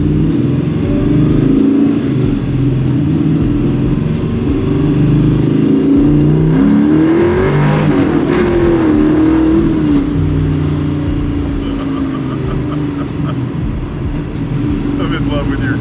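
A 700 hp AMC/Hurst SC Rambler Scrambler race car engine runs loud and close, idling rough then revving up and settling back down in a sustained mechanical roar, with voices talking over it.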